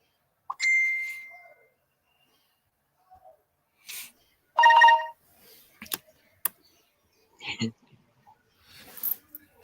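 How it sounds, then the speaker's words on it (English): A phone sets off repeated notification dings, several short bright tones scattered across the clip amid clicks and quiet handling noise. "my phone going haywire"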